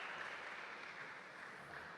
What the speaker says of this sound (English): they're cheering every point